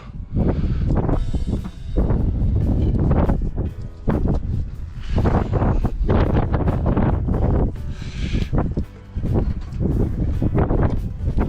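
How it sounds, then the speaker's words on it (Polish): Strong gusts buffet the microphone in loud, rumbling bursts, surging and dropping irregularly throughout with no voices. "Ale wiatr się zerwał."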